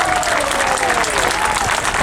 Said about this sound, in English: Let's give the crew group a big round of applause